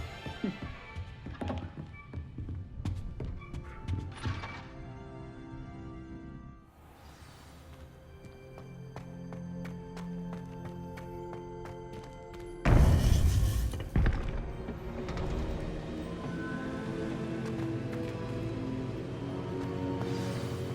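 The Descendo spell in Hogwarts Legacy strikes a training dummy, with soft thunks and taps amid game music, then a sudden loud burst of impact noise partway through that slowly fades back into the music.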